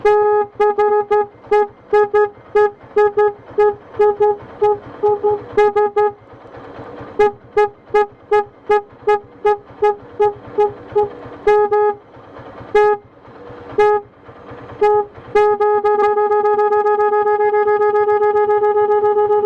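Loud, close beeping from a digital hydraulic motorbike horn with 18 tones, firing quick repeated blasts and switching between patterns, ending in one long sustained tone, with no voices.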